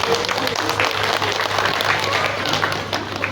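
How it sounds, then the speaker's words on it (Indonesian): Applause from an audience at a school gathering of MIN 1 Tulungagung, greeting the head of the school; steady dense clapping over a low hum, fairly loud and continuous throughout. "tepuk tangan untuk beliaunya."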